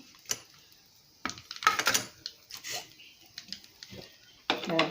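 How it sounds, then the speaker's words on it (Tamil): Irregular crackling pops and spits of mustard seeds bursting in hot oil for tempering a curry, scattered sharp bursts at close range with quiet gaps between. "கடுகு வெடிக்கட்டும்."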